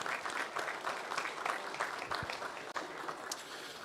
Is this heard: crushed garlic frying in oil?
no